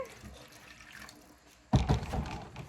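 Tap water running into a sink to fill a pet ball python's water bowl, starting abruptly partway through and continuing as a steady nearby splashing rush after a quiet stretch.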